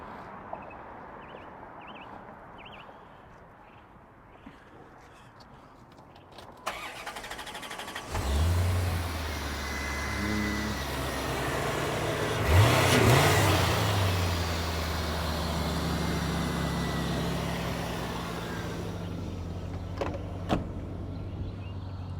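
A 1989 Chevrolet Corvette on a road test drive, engine starting faintly then rising into a steady loud drone with road and wind noise, a brief surge midway, no talking.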